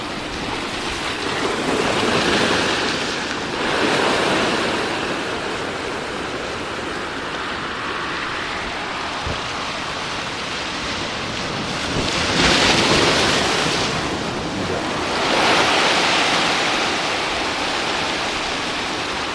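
Big ocean waves surge and crash onto the shore in broad roaring swells, loudest around the start and again near the end, with steady wind noise buffeting the microphone throughout and no voices.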